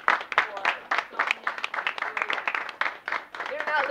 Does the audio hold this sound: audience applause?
yes